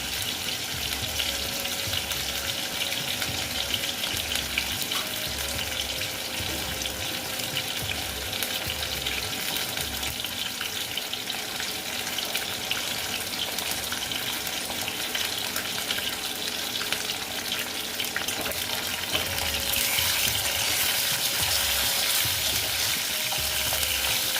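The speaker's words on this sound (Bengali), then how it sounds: "তিনটা করে আমি ভেজে নেব মাছ আমার ছটা আছে তো তিনটে করে আমি ভেজে নিচ্ছি" Rohu fish pieces fry in hot oil in a pan, a loud, steady sizzle that crackles continuously for the whole stretch, with occasional faint clinks of stirring.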